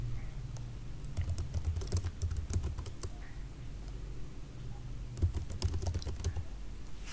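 Rapid keystrokes on a computer keyboard in bursts, an address typed into an Excel data entry form, close and fairly quiet with short pauses between runs.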